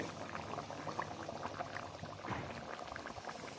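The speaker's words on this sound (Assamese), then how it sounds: "ভালদৰে এটা উতল আহিবলৈ দি মই এইটো নমাই দিম" Pot of Assamese fish curry with mani muni greens at a steady rolling boil, a dense continuous bubbling and simmering close by, with no talking.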